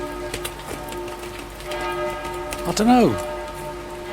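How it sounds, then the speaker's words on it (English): Steady rain falls in Dieppe with a constant close hiss and patter, while a person speaks briefly over it. "I just want this rain to stop"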